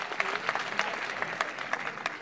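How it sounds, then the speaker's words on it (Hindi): Audience at a university campus introduction applauding, a steady wash of clapping from a crowd at moderate distance, continuous through the short burst with individual claps popping out. "एक दफ़ा ज़रा भरपूर तालियां होनी चाहिए"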